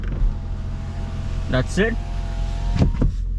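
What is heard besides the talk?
Hyundai Ioniq Hybrid power windows rolling down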